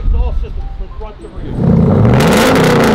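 A supercharged Jeep Trackhawk with a full 3-inch dual exhaust roars up into a loud, rising rev after a brief stretch of muffled talk, the engine note swelling and holding close and strong.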